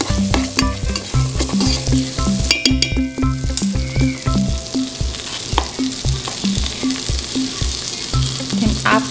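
Garlic fries in butter in a pan with a steady close sizzle, while regular rhythmic tapping and scraping of a utensil stirring runs throughout.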